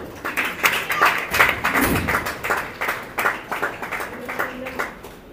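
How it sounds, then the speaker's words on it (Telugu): An audience at a Sri Kanyaka Parameshwari temple program claps in a scattered, steady patter throughout, with a low voice briefly mixing in. "చప్పట్లు"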